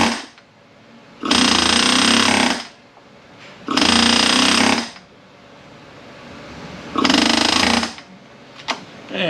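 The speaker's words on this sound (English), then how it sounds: "I'm going to use a flat punch on my air hammer." Pneumatic air hammer driving a flat punch during a disassembly job, firing in three loud, sustained rattling bursts of about a second and a half each, separated by quiet pauses.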